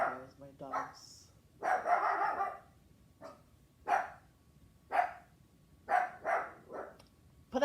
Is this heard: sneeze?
no